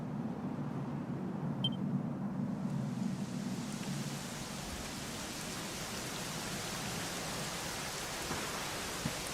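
Steady rain falls in the Dragon Quest XI game world, a continuous broadband hiss of drops on surfaces that holds evenly throughout with no talking.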